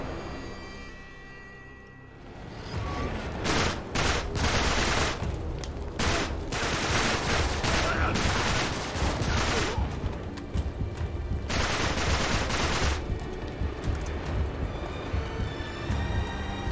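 Rapid automatic gunfire in Uncharted 3: Drake's Deception, dense sustained bursts of shots with brief lulls, loud and close throughout.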